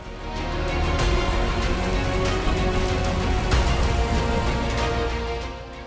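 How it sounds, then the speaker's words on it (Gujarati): Steady, dense pre-monsoon rain in Gujarat pours down on a hard surface, a continuous loud hiss with scattered heavier drops and no voices. "ચોમાસા પહેલા વરસાદનો તરખાટ"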